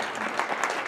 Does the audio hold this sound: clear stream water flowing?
no